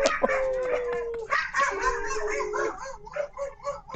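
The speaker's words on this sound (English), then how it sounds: "Oh, they howl." Several dogs howling together in a room, long rising and wavering howls with yips layered over one another for a few seconds, close and fairly loud.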